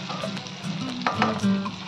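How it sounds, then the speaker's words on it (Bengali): Chicken popcorn frying in oil over a medium flame, a steady crackling sizzle with soft stirring clinks and scrapes close by, with no talk. "মিডিয়াম ফ্লেমে এটাকে ভাজতে হবে।"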